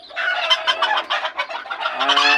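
A flock of chickens cluck and squawk continuously, loud and close, a busy overlapping chorus with no voices.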